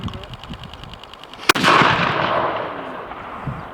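A ceremonial black-powder cannon firing at the Dunkeld and Birnam Jubilee 2022 in Scotland, a single sharp, loud blast that rolls off into a long echoing rumble through the open air, with faint crowd murmur before and after.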